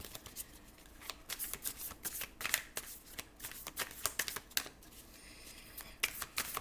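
Tarot cards are shuffled by hand in a series of quick riffling bursts and soft flicks, close and fairly quiet, with an irregular rhythm of short shuffles throughout.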